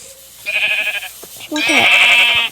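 Black sheep in the video game Minecraft bleat twice in close succession, the second call longer, loud and near with faint background game sound.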